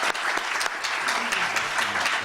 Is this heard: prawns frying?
no